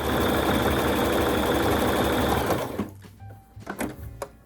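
A sewing machine runs a continuous zigzag stitch around a picnic basket being made over, a loud steady whir for a few seconds that stops abruptly, followed by light handling clicks.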